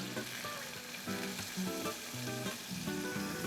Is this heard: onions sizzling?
yes